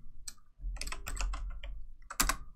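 Computer keyboard being typed on at close range, a short burst of soft key clicks followed by a louder final tap.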